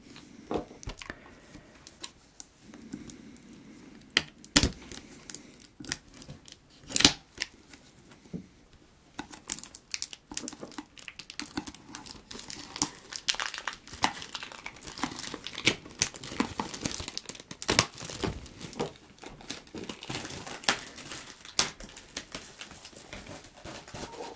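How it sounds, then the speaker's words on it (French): Packaging of a Pokémon Elite Trainer Box being opened up close, with crisp crinkling, tearing and rustling of plastic and cardboard in irregular bursts, quiet and intimate. "Allez, on ouvre ça parce qu'il n'y a pas que 4 boosters dans cette ETB."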